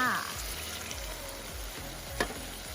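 Pork stir-fries in a pan for a Thai curry, giving a loud, steady close sizzle with a faint scrape of stirring partway through.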